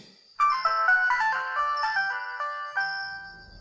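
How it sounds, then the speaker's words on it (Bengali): A mobile phone rings with a bright electronic melodic ringtone, a short run of stepped tones starting abruptly after brief quiet, loud and close with nothing else over it. "হঠাৎ তার ফোনটা বেজে ওঠে।"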